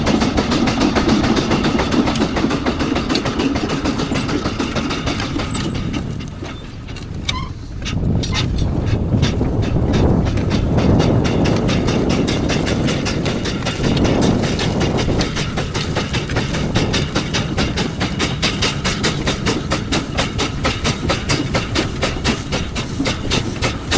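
A Ransom steam tractor pulling a Ransom's ride-on plough in a demonstration, a loud, steady chuffing and rattling machinery clatter with a continuous hiss and a brief lull partway through.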